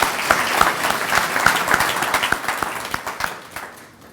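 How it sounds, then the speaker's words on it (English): An audience at a hall of fame induction ceremony applauds, a dense burst of clapping that thins into scattered individual claps and fades out within a few seconds. "if we could give them all a round of applause and thanks for coming"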